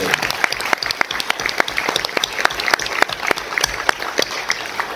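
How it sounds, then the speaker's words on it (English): Audience applause at an inaugural address ceremony, a dense steady patter of many clapping hands sustained throughout at close range, with no talk over it. "A big round of applause for sir."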